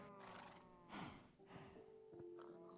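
A horse in the Minecraft video game gives a full neighing whinny followed by shorter snorting calls, close and clear with no talk.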